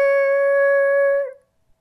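A voice imitates car tires squealing around a corner, sustaining a single steady, high, piercing eee tone for over a second before cutting off.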